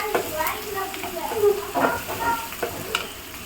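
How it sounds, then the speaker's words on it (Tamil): Onions sautéing in a pan for a brinjal tamarind curry side dish, a steady close sizzle broken by scraping stirs, with faint background voices. "வெங்காயம் நல்லா வதங்கணும்."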